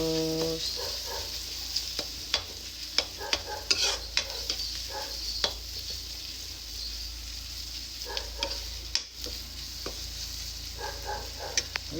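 A spoon scrapes and stirs food frying in an old karahi pan, with repeated sharp clicks and knocks against the metal over a steady, quiet sizzle heard up close.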